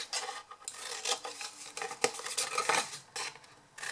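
Scissors snip through card, cutting the four corners of a decorated box into tabs, a close series of crisp rasping cuts in an uneven rhythm, with no voices.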